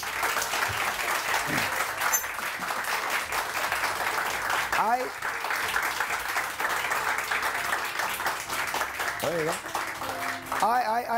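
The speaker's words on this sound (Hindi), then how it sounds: "तालियां." Studio audience on a Pakistani morning show claps steadily throughout, a continuous dense applause with a few whistles and voices scattered on top.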